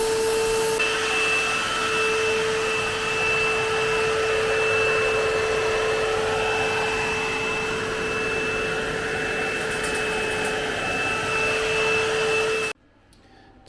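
A wet vac runs continuously with a steady high whine and airy rush, sucking water out of a Honda Civic's car interior seats, holding constant for about twelve seconds before cutting off abruptly.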